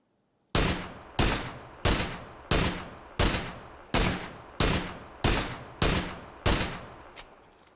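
Gunfire in PUBG: ten loud, sharp single shots fired in a steady, evenly spaced rhythm, each with a quick echoing decay, followed by a fainter final report.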